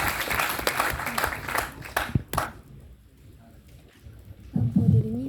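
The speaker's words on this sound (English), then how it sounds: "Let's put our hands together to welcome Dr. Billy Tang" Crowd applause, dense clapping from a sizable audience that swells then fades out over a few seconds, with a voice starting up at the end.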